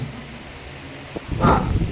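A dog in a spacious church hall gives a short burst of barking and whimpering near the end, standing out from a quiet room background.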